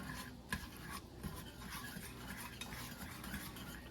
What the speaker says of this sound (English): I'm going to get my whisk and I'm going to whisk this together just real quick.